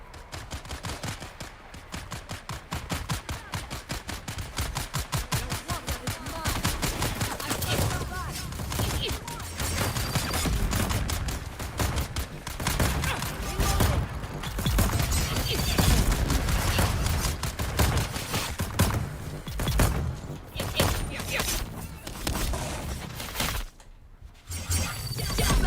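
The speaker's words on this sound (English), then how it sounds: "Something is shooting at something else." Sustained rapid gunfire rattles in long, dense bursts throughout a Dune Awakening battle, mixed with mechanical clatter, with a brief lull near the end before the shooting resumes.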